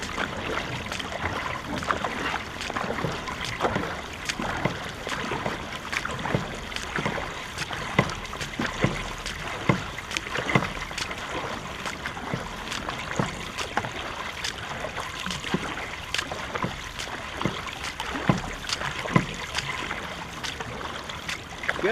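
Repeated canoe paddle strokes during a marathon canoe race splash and swish through water at a steady rhythm, with a continuous watery trickle underneath.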